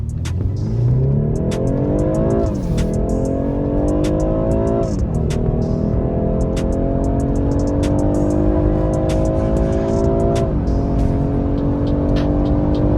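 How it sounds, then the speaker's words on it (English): BMW 4 Series car accelerating hard through several gears, the engine note climbing steadily and dropping at each shift, loud and close from inside the cabin, with no talking. "I'm going to show you a point of view driving of the BMW 4 Series."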